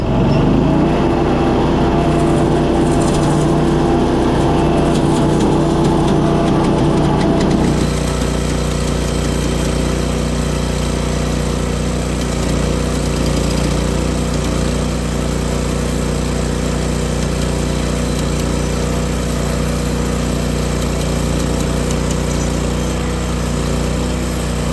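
HD36V2 sawmill engine running steady and loud through a cut in a frozen, ugly white oak crotch log, its tone shifting and dropping after several seconds as the blade works unevenly, with no talk.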